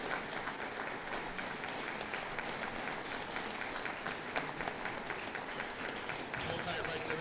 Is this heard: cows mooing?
no